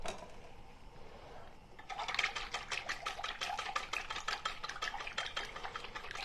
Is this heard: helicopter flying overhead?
no